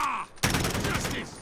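M4A1 rifle firing on full auto in Call of Duty: Modern Warfare, a sudden close burst of rapid shots that starts after a brief quiet lead-in and carries on loud to the end.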